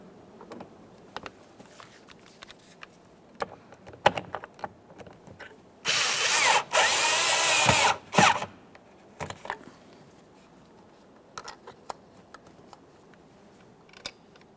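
A power screwdriver drives a Phillips screw into a 2010-2013 Kia Forte Koup interior door handle, whirring in one sustained burst of about two seconds, with scattered clicks and handling noises before and after.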